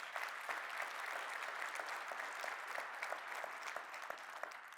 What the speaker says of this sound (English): So give Julia another round of applause.